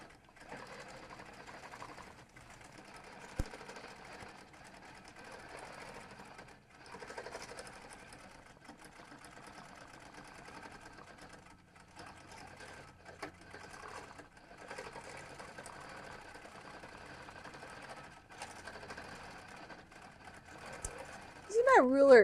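A longarm quilting machine stitches along a ruler, its soft, steady mechanical hum running quietly throughout with brief pauses and occasional clicks, while a person talks over it.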